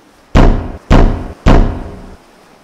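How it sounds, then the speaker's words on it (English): Three heavy, booming knocks strike a gate at night at the castle of Tre Kroner, evenly spaced, loud and close, each ringing out briefly before the next. "Again there was the midnight knock on the gate of Tre Kroner."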